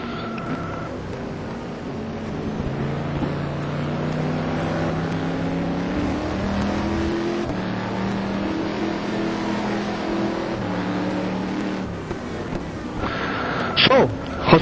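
Race cars in the ETC Black Cup at Curitiba roar down the straight, a steady loud engine drone with rising and falling pitch as the cars pass, under continuous commentary.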